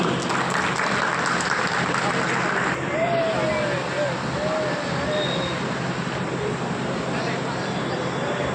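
A crowd at an award ceremony gives loud, sustained applause, a thick wash of clapping that continues under a voice speaking over it.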